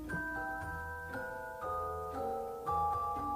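A celesta plays the bell-like opening of a Christmas song, with bright, chiming notes struck in a slow repeating pattern and ringing over soft low chords, clear and close.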